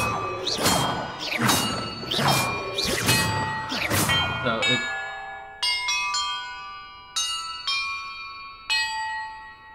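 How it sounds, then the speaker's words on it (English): Bells ring out in the video game Hogwarts Legacy. After a few seconds of loud swooshing clashes, several separate bell strikes follow, each ringing clearly with a long, shimmering decay. "perhaps the map contains clues about the order I'm supposed to ring the bells in"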